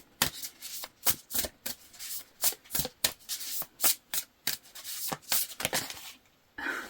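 Tarot cards being shuffled by hand: a rapid series of crisp riffling bursts, about a dozen close, dry shuffles in steady rhythm, heard alone with no voice.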